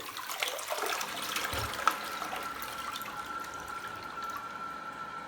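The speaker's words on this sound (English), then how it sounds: "And here's what the light flush looks like." A TOTO Drake two-piece dual-flush toilet runs its 0.8-gallon light flush. Water rushes and swirls quietly, with a soft steady hiss and small trickles and no loud gurgle or whoosh.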